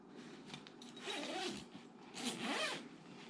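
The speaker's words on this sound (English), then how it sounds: "How easy does it zip back together?" A zipper being pulled closed along an Alps Outdoorz Redwood -25 sleeping bag, two drawn-out rasping zips in close succession, near and fairly quiet, with no talking.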